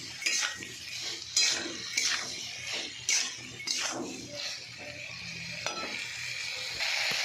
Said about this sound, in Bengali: আমি আলু আর সয়াবিন বড়িটা ভালো করে কষিয়ে নেবো, তারপরে জল দেবো।